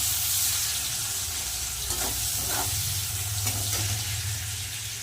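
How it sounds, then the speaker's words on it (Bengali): Steady sizzling of chopped onions frying in hot oil with nigella seeds, loud and continuous, with a few brief scraping stirs partway through. "পেঁয়াজটা ভালো করে ভেজে নিলাম"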